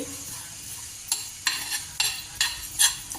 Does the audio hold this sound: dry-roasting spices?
yes